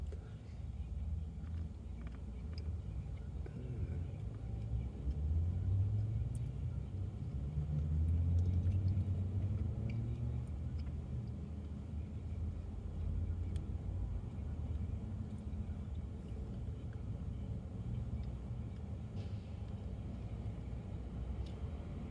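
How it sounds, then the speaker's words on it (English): A tow truck rolls past on a city road junction, a low engine rumble swelling to a peak then easing away, with steady traffic noise continuing throughout and no talking. "Another tow truck going."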